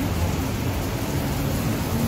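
Rain falls steadily in Bangkok, making a continuous, fairly loud hiss and patter with no breaks and no voices.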